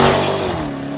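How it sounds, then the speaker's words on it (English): A Jaguar F-Type SVR engine and exhaust rev loudly and close up, a sustained roaring rise that eases off within a second. "My favourite bit, honestly, is the noise. That exhaust system is disgusting,"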